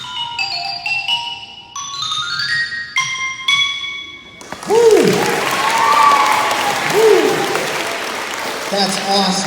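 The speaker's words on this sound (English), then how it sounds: "Let's have a big round of applause for all of our percussion." Applause breaks out for school percussion players at an instrument demonstration, after sustained tonal percussion notes ring out. The clapping is loud and close, with some voices and a few ringing tones mixed in.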